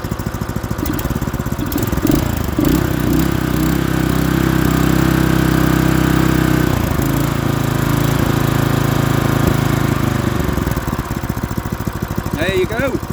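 A freshly unboxed Honda GX clone small petrol engine, not yet bolted down, runs steadily at idle just after its first start, a continuous loud mid-low chug with some voices and clatter over it.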